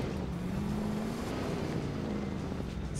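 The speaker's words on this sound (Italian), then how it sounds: "Macchina davanti a noi." A vehicle driving in the Fortnite video game gives a steady engine drone with a faintly gliding hum, continuous at moderate loudness throughout.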